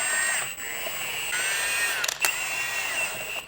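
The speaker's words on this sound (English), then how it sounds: "We're gonna compress the spring" A rented spring compressor squeezing a car suspension spring on a Lamborghini Huracan, heard as a steady high mechanical whir from a powered tool that carries on almost without a break, with a couple of brief clicks.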